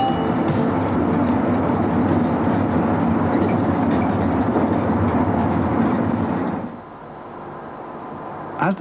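A British Rail train rumbles past nearby with a rattling, clattering roar that drops away abruptly near the end, leaving quieter background noise.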